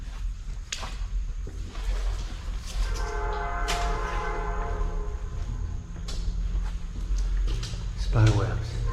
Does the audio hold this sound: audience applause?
no